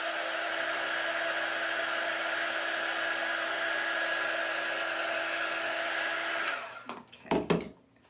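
A hair dryer blows steadily on wet paint, a loud continuous whine that runs for several seconds before cutting off, followed by a few faint handling clicks and bumps.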